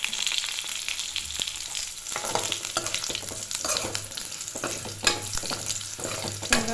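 Sliced onions sauté in a pan with oil for a manathakkali keerai kulambu, giving a steady close sizzle broken by frequent scraping spatula strokes and light clinks throughout, with no talking.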